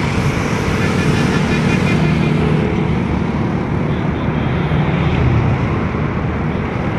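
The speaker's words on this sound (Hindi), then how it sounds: "बहुत ट्रैफिक जाम है इधर।" Heavy roadside traffic noise from a jammed road in India, a continuous rumble of vehicles with wind buffeting the microphone, steady and fairly loud throughout.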